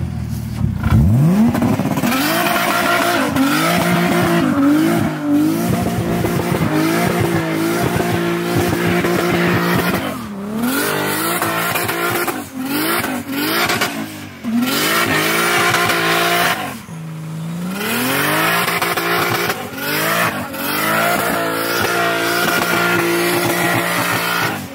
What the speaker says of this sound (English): but you guys deserve a burnout.